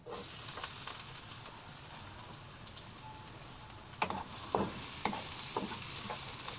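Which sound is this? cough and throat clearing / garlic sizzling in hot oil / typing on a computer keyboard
garlic sizzling in hot oil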